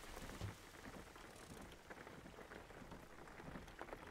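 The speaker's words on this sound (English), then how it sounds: "It's still raining, which is real annoying." Steady rain from the video game Jalopy patters and hisses evenly throughout, soft and continuous with no voices.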